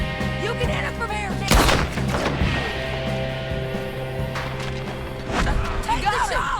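Gunfire in Red Dead Redemption 2, a few sharp, loud shots cracking over a droning background, with voices talking between them.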